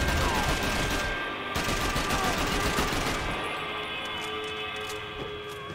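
Gunfire from the video game Max Payne 3 comes as a dense, continuous volley of rapid shots at a loud level, fading slightly toward the end.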